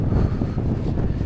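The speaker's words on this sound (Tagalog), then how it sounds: "Lakas ng hangin" Strong wind buffets the microphone outdoors on a road trip, a loud, continuous low roar with gusty rumbling throughout and no voices.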